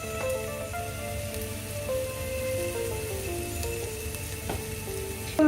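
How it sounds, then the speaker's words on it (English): Onion and split red chili with salt fry in a pan, giving a steady bright sizzle and crackle that holds evenly for several seconds, with faint tonal hum underneath and no talking. "Onions have been frying for like a minute"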